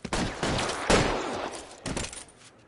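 Gunfire breaks out in a police shootout in the video game L.A. Noire: several loud bursts of rapid shots, separated by short gaps, with no talking.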